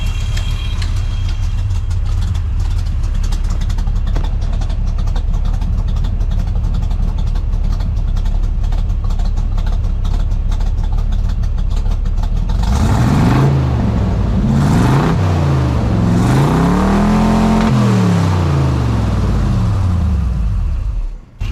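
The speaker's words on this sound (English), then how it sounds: "bit of an exhaust leak on this side, but I'm not surprised" A 1967 car engine with an exhaust leak runs steadily for a long stretch, idling with a rough, rumbling exhaust note, then revs up and down near the end.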